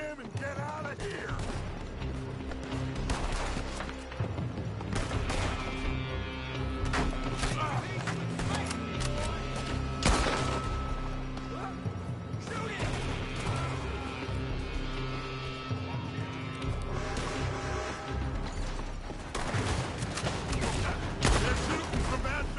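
Sustained gunfire from a building in a shooter video game, with repeated shots and crashes over a continuous score and ambient clatter, loud and busy throughout.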